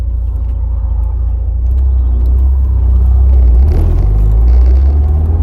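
A project car's engine rumbles steadily and loud as the car drives along, a deep continuous low drone with no one talking.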